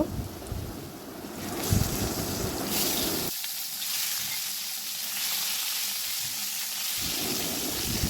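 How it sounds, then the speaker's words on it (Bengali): Peeled boiled eggs frying in hot oil in a pan, a steady broadband crackle and hiss that briefly dips in the middle then resumes, close and continuous with no talk. "এখন এই তেলের মধ্যেই ডিমগুলো দিয়ে দেব"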